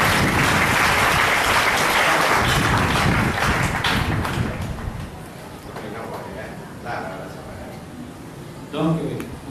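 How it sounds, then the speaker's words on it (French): A church congregation bursts into loud applause, which thins and fades after a few seconds while a voice speaks over the dwindling claps. "applaudissez pour le Seigneur"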